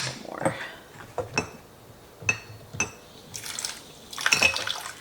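Well water is poured and splashes into a container while making sourdough, in several short, separate bursts of sloshing with faint clinks between them, up close and fairly quiet.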